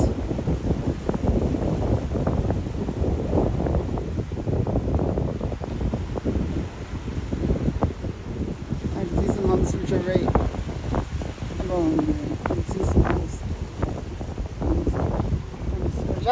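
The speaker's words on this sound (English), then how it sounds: "Look at this one here, it's actually pretty windy." Strong wind roars and buffets the microphone nonstop on a beach at Waikoloa Village, with rough surf faintly underneath and a voice talking through it.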